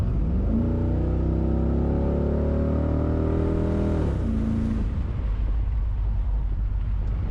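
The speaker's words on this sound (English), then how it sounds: "Let's punch it real quick. See how fast we get up to" LS-swapped Chevy S10 truck accelerating hard from 40 to 60 mph, a loud rising engine roar that climbs steadily, drops briefly at a gear change, then settles into a lower rumble under road noise.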